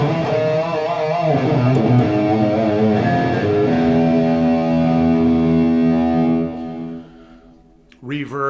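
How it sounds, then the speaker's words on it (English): Loud electric guitar lead tone drenched in reverb and digital delay, sustained bending notes ringing for about six seconds before trailing off into echoes, with a brief new attack at the end. "Reverb, digital delay."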